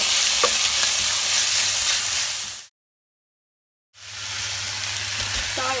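Kimchi fried rice being stir-fried in a hot pan, a steady broadband sizzle with scraping of the spatula, cut by about a second of complete silence before the frying resumes; brief faint voice traces.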